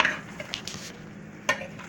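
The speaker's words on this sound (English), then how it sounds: "We're adding the vegetables in." Vegetables such as onions, peppers and potatoes are dropped into a pot of roasting curry goat, giving a few short clattering rustles and brief sizzling bursts over a steady low cooking hiss.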